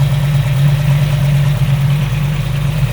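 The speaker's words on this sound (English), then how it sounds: "Got a 502 crate motor, fresh out of the box." A fuel-injected 502 crate V8 with Hilborn 8-stack injection idles steadily up close in a 1972 Chevrolet Camaro RS, a deep, even rumble with a loping low throb and no voices over it.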